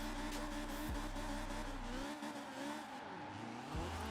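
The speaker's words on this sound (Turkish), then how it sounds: "Araba dönüyor abi ya." BMW E30 spinning out while drifting in Forza Horizon 4, a loud engine buzz with rising and falling revs and a continuous tire-squeal hiss, the pitch dropping sharply as it loses grip.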